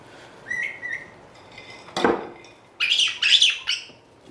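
A pet parrot gives a few thin whistles, then a sharp harsh squawk, followed by loud, shrill, piercing screams that ring out close by in a quiet room.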